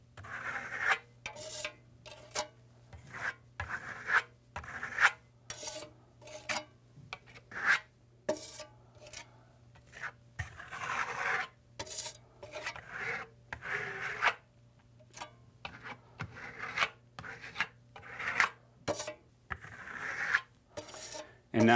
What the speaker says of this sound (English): We're using an open pattern, a skip trowel application, so we're applying all over the surface